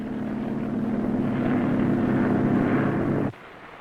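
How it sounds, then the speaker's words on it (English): Military helicopters lift off from the decks of amphibious assault ships, heard as a loud, steady rotor and turbine roar that holds constant and then cuts off abruptly. "the helicopters cleared the assault ship decks to carry out a vertical envelopment"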